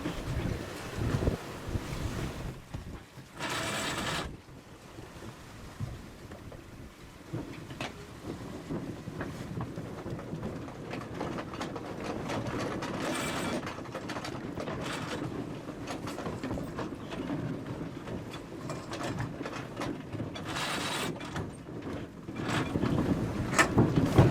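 A Catalina 42 sailboat tacking in strong wind, with continuous loud wind buffeting and water rush, punctuated by a few brief louder gusts or flogging bursts over the span.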